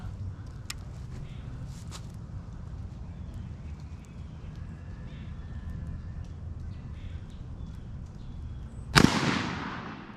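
One rifle shot rings out outdoors while a Vortex Strike Eagle scope is being sighted in. It is a single sharp, loud crack near the end with a short decaying tail, after a quiet stretch of faint clicks and ambient noise.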